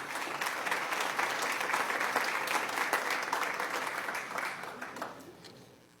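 Audience applause fills a school board meeting room, a steady dense clapping from many hands that holds strong before tapering off near the end.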